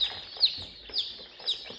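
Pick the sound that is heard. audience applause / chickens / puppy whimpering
chickens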